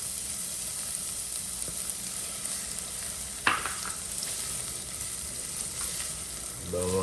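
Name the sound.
onion frying in olive oil in a saucepan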